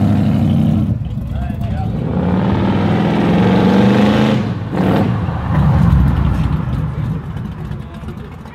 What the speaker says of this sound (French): vous montrer le démarrage de la Camaro de Stéphane